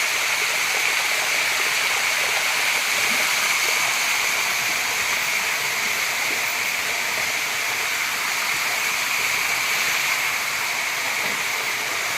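Rainwater flows steadily while cow stalls are washed out at a livestock shed, a continuous rushing hiss of moderate loudness with no voices.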